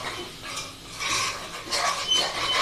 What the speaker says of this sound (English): Sorry about scraping, for people who don't like scraping, tough.